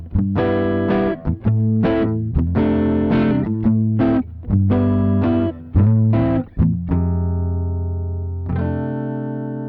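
Electric guitar driven through a Joyo California budget effects pedal, heard as loud, distorted chords with a bright, present tone, struck in rhythmic bursts with short gaps before a final sustained chord rings out and fades.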